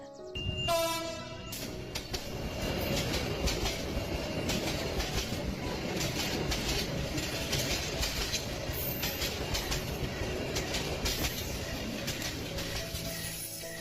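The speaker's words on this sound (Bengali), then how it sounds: "হুইসেল বাজিয়ে ট্রেনটি শ্যামনগর পৌঁছালো ঠিক সন্ধ্যায়" A cartoon-style train sounds its whistle at the start, then rolls loudly into a station with clattering wheels and squealing rails that go on steadily to the end, with no voices.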